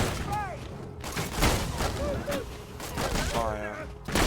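Rifle gunfire in Borderlands 2 sounds as sharp, repeated shots and bursts over busy game noise, while voices talk throughout.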